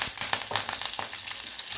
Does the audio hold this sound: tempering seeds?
yes